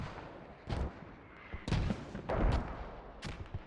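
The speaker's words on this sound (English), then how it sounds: "Possibly from enemy mortars." Enemy mortar rounds land in the Squad video game, several distant muffled booms scattered irregularly across a few seconds over low background noise.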